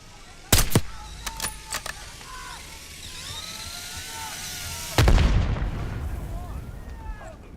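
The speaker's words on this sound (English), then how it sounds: "Mortar strike at the ready." Mortar strike explosions in the Call of Duty Black Ops 6 campaign: a few sharp cracking detonations, then a heavy booming blast a few seconds later that rumbles on, with faint battlefield noise in between.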